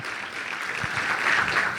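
A Pentecostal church congregation breaks into applause for the Lord, a brief swell of clapping and voices that builds over under two seconds.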